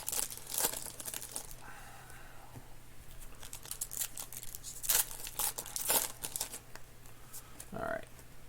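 Foil wrappers on 2019 Panini Certified football card packs are torn open in a series of loud crinkling rips and crunches, several sharp bursts spaced unevenly through the clip amid quieter rustling and handling.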